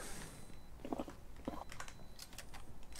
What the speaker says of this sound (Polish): Mówię już jakieś chrupki w akcji.